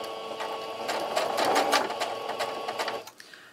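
A sewing machine stitches terry cloth while making a homemade sponge, giving a steady close-up whir with a rhythmic needle pulse for about three seconds before it stops and a couple of small clicks follow.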